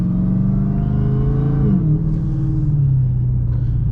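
A Hellephant-engined Chrysler 300 with traction control off revs hard as its wheels spin, a loud, steady engine roar that dips briefly as power is cut and then holds on.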